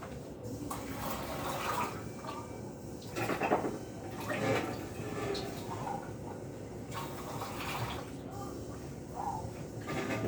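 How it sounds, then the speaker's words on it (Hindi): Water runs and splashes softly as peas are rinsed, with quiet rustling and handling throughout, fairly faint. "लेके वॉश कर देता हूँ और डाल देता हूँ।"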